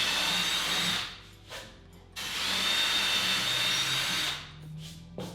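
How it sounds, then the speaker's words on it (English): A power drill bores holes into a wooden amp rack board, running in two long loud bursts with short whirring pauses and brief spin-ups between them, close by. "so I know where to drill"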